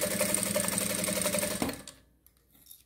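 A sewing machine stitches a zippered tablet holder in a steady, close, continuous whir that stops abruptly partway through, leaving a few faint handling sounds.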